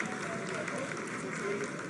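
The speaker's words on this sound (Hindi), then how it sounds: "Lot of applause indicates that till now the performance has been nominal." Applause fills ISRO mission control during the Chandrayaan-3 lunar landing's vertical descent phase, a brief, dense wash of crowd clapping with a voice talking over it.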